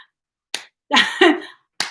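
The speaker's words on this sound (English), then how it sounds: "that's a weak clap too" Light hand claps and snaps, soft and sparse: a short sharp one, a slightly longer double burst, then another brief single one, each separated by silence.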